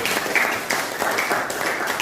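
A classroom group of students claps for a group of classmates, a modest patter of hands with uneven, scattered claps, fairly close and moderately loud.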